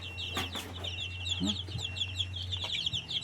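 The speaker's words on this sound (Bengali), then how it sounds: "মুরগি" Desi crested hens cluck in short scattered calls on a farm, fairly quiet, over a steady low hum and faint chirping birds.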